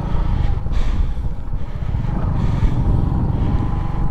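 A motorcycle labours through deep sand on a beach-like track in Manikganj, its engine droning steadily and close with heavy wind buffeting the microphone, no talking.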